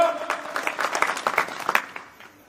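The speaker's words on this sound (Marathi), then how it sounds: "तुमच्या सगळ्यांचं टाळ्या वाजून अभिनंदन करतो" Audience clapping at a lecture, a brief scattered round of applause that thins out and fades within a couple of seconds.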